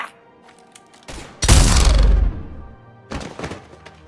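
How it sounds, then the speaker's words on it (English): Gunfire in the sci-fi shooter Mass Effect 3: after a few faint clicks, a sudden loud, dense volley of shots and thuds bursts out for about a second, then dies away before a smaller clatter returns. "Now open fire!"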